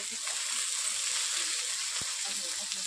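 Chopped onions hit hot oil with panch phoron five-spice seeds, producing a dense, even sizzle that holds steady throughout. A single soft knock sounds partway through.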